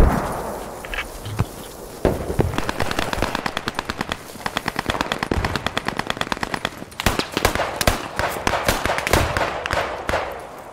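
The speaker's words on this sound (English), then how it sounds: "But he's shooting at me from this position." Automatic gunfire from a Thompson submachine gun in the game Post Scriptum, long loud rapid bursts of shots close by, with sharp single cracks and more distant fire between them.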